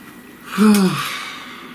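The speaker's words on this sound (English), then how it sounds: "Please take a nice deep breath." A single slow, deep breath taken close to the microphone, a soft voiced sigh-like inhale and exhale that rises and then fades away in quiet surroundings.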